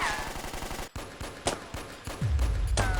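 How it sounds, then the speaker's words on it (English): Rapid bursts of gunfire in an anime corridor crack and echo, several sharp shots in quick succession over a low rumbling background. "a sudden burst of gunfire echoed down the corridor"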